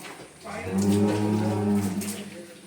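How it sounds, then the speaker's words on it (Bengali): A Brahman calf lets out one drawn-out, nasal moo close by, rising and then fading over about two seconds. "সুন্দর একটি বিরহামা বাছুর"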